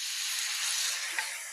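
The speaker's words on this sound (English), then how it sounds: "I'm just going to add a tablespoon or two of white wine" A tablespoon or two of white wine hits a hot skillet with a steady, close hiss as it deglazes the browned bits on the bottom of the pan for a meatless shepherd's pie.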